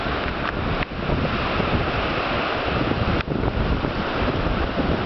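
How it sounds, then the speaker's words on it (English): Strong wind gusts of about 30 to 40 mph on Rich Mountain roar steadily against the microphone, with a couple of brief dips, with no talking. "It's really windy today. 30-40 mile an hour gust up here."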